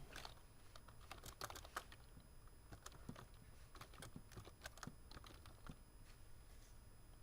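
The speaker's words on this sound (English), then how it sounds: "Just typing it up here." Fast, irregular clicking of keys on a computer keyboard, quiet and close, with a low background hum and no voices.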